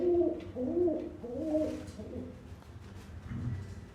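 Mother pigeon cooing softly to her chicks, a few low, throaty coos close by over a quiet background.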